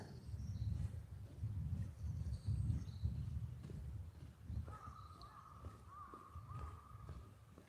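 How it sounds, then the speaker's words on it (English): Faint crows cawing off in the distance over a low background rumble, with a soft tone and light clip-clop-like steps, outdoors in Tokyo on a rainy day. "crows are crowing somewhere."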